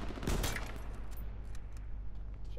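Video game sniper fire: one loud, close shot near the start, then fainter scattered shots and rattles trailing off across the next two seconds.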